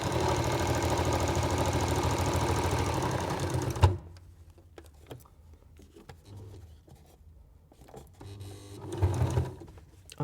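A sewing machine stitches through about eight layers of patchwork fabric with a steady, fast mechanical whirring, close and loud, then stops abruptly, leaving quiet handling noises and a brief second run of motor hum.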